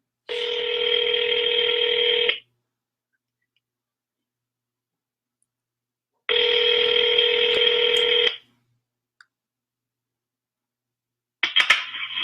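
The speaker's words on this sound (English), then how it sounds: "please hold while I transfer your call" Telephone line ringing on hold during a call transfer, two long steady electronic ring bursts of about two seconds separated by silence, then the start of a third, loud and alone with no talk.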